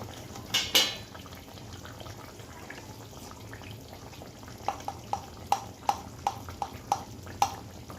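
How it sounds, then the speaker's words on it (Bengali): Thick kofta curry gravy with paneer dumplings simmering in a pot, a steady low bubbling bed with a run of small, evenly spaced pops in the second half, close and fairly quiet. "আর একটু ফুটিয়ে নেব"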